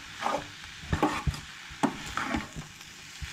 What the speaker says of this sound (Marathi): हळद आणि मसालो हांगसर एड केलो. तेच्या उपरांत हे सगळें मिक्स करून घेवंक जाय.